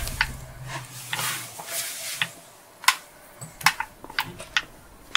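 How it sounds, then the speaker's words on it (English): Typewriter keys clack while saving in the Resident Evil 2 Remake video game, a series of sharp, separate taps with uneven gaps between them, close and fairly faint with no talk. "Ooh, typewriter."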